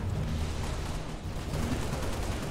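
Dense, continuous gunfire and explosions from the video game Halo Reach roar loudly and steadily throughout, with no pauses.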